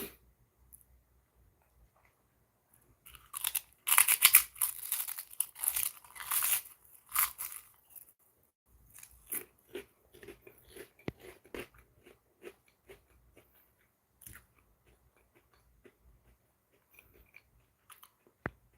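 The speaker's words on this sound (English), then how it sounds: "I'm eating crunchy snacks." Crunchy snacks are chewed close to the mic in bursts of crisp crackling and crunching, loudest early on, then sparser bites with quiet pauses and no talk.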